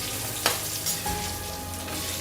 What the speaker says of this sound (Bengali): সেদ্ধ করা আলুগুলো দিয়ে দিলাম, এটাও সামান্য ভাজা হয়ে যাবে।